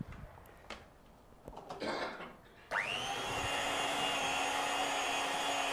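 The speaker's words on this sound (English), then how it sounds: "now with my electric mixer, I'm just going to beat everything together." An electric mixer whirs steadily as it beats frosting, starting abruptly partway through after some faint handling noises and running loud and continuous to the end.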